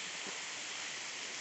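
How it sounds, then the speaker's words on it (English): Burden Falls pours in a continuous broadband rush of falling water, a steady, hissing roar at close range with no breaks or voices. "There's the waterfall."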